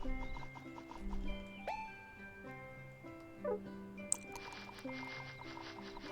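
Hooves of a horse ridden through Harvest Moon clip-clop in a steady rhythm under sustained game music, the hoofbeats close and moderately soft.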